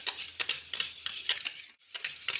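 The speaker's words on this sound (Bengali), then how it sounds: "আর এদিকে নিয়ে নিচ্ছি টক দই, এটাকে খুব ভালো করে কিন্তু ফেটিয়ে নিতে হবে।" Sour yogurt being whisked into a smooth paste in a bowl, heard as a rapid run of close, bright scraping strokes with one brief pause, steady and fairly quiet with no voice.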